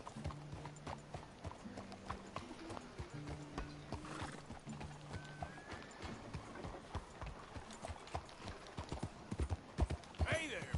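Horse hooves clip-clop in a steady rhythm in the video game Red Dead Redemption II, joined by a brief whinny, with voices and low music underneath.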